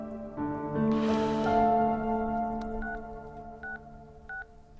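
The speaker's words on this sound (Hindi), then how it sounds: "भाभी को फोन कर।" A mobile phone being dialed: a few soft keypad button tones sound as short, evenly spaced beeps near the close, after background music and a low vocal sound.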